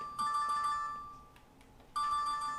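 A mobile phone ringtone plays in a broadcast studio, two loud bursts of a bright electronic melody separated by a short pause, with no one talking.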